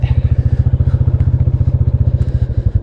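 Royal Enfield Classic 350 single-cylinder motorcycle riding, its loud, steady thumping exhaust beat close and continuous throughout with a fast, even pulse and no talk over it.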